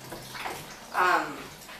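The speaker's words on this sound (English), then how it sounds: "I'm going to get all of my jars washed in hot soapy water" Canning jars being washed by hand in hot soapy water, soft sloshing and splashing with one brief louder swirl of water midway, close and without speech.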